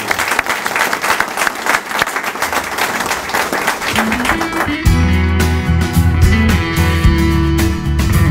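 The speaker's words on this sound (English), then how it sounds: "A big round of applause to those guys." An audience at a Harlingen site grand opening claps in a dense, steady burst for about five seconds before music takes over and carries through to the end.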